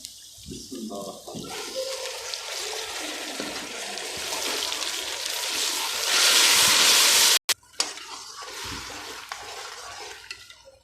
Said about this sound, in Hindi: पानी ऐड होएगा।